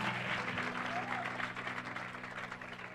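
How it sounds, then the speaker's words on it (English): A church congregation claps for Jesus in a steady wash of applause from many hands, fairly close and continuous, with a low hum of voices mixed in. "Clap hands for Jesus."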